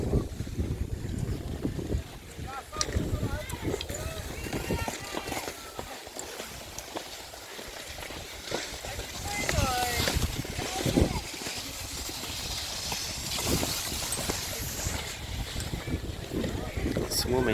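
Wind blows steadily at Lake Bohinj in Slovenia, a continuous gusty rush buffeting the microphone throughout, with scattered knocks, clatters and bits of background talk mixed in.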